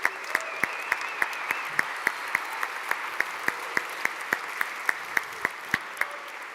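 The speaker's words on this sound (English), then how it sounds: "let's have some applause for a great talk" Applause from a conference audience after a growth hacking talk: steady, moderately close clapping with regular sharp individual claps standing out, continuing evenly throughout without talk.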